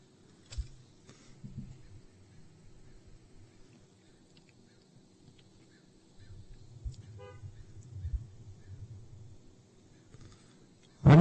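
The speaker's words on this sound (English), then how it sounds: "And honking is permissible." At an outdoor law enforcement academy graduation, a car horn gives a brief, faint toot from a distance over a low background rumble, and a sharper burst sounds at the very end.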